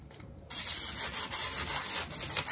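Steady, close-up scraping and rubbing of a knife blade being stropped on a pasted surface, continuous with slight rhythmic variation, no voices.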